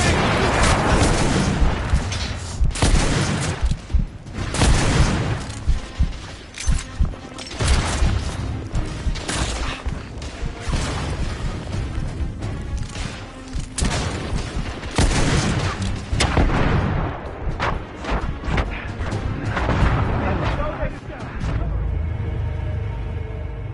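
Dense video game battle on a bridge with loud near explosions, a grenade blast and rapid bursts of gunfire that continue almost nonstop, fading into lighter crackle toward the end.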